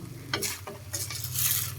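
Lao-style rice noodles stir-fried in a pot, with steady close sizzling and scraping stirs in irregular strokes over a constant low hum.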